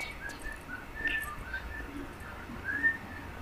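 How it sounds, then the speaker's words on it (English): Soft melodic whistling of a tune plays in the video game No More Heroes, faint against a low background hum, with short pitched phrases over a few seconds. "Whistling."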